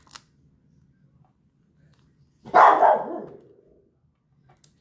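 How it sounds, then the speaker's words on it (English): Chico, a house dog, gives a single loud, close bark at someone outside, standing alone in an otherwise quiet room with only faint clicks around it. "my dog, he's going to start barking."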